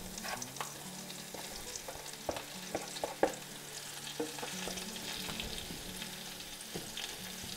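Minced meat frying with onion in a pan gives a steady, dense sizzle, broken by irregular scrapes and clicks of stirring, with one sharp knock near the middle and no voices.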